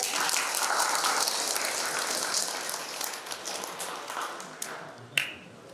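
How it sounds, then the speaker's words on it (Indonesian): Applause in a church during a Catholic wedding ceremony, a soft mass of clapping that gradually thins and fades, ending with a few scattered claps and a sharp tap. "Kita beri tepuk tangan."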